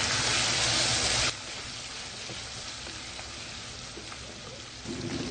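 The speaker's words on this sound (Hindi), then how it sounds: "एक से 2 मिनट हमने इसको भून लिया।" Chicken karahi with chili, black pepper and spices sizzles hard in a pan at first, then drops to a soft, steady hiss before the loud frying picks up again near the end, with no voices.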